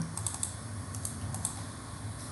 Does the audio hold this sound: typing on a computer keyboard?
yes